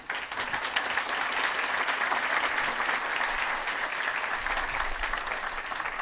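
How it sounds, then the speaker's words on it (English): A school convocation audience claps steadily for several seconds, a dense, even wash of many hands at moderate volume with no voices standing out. "Maybe we can hold the applause till the end."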